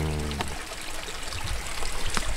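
A small river trickles and streams steadily near an abandoned former naval gunpowder works in Maizuru, Kyoto, a close continuous wash with a brief low voice at the start.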